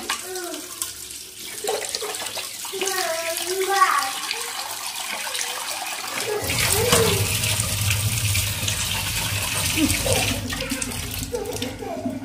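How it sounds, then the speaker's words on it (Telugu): Tap water runs steadily into a container to soak greasy gas stove plates, a constant close rushing stream that starts partway through, with a person talking before and over it. "వాటర్ అయితే పట్టేసుకుంటున్నా"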